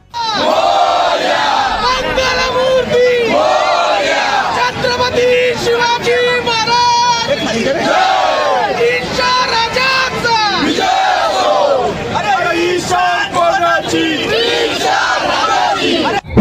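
A large crowd shouts and cheers continuously at a Ganesh mandal's idol arrival procession in Dhule, loud, dense overlapping yells and chanting sustained from start to finish.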